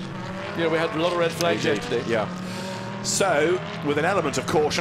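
Race cars rolling out onto the Silverstone circuit for a 2015 qualifying session, their engines rising and falling in pitch through the whole stretch beneath steady commentary.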